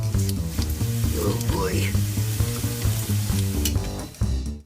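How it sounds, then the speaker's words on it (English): Bacon frying in a pan for an omelette, a loud close sizzle and crackle running throughout, with someone briefly speaking over it and a sharper clatter near the end. "I think I'm burning this bacon already."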